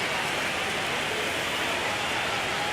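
Rain pours steadily over a ballpark during a World Series game between the Phillies and the Tigers, a dense, even hiss with no breaks that holds its level throughout.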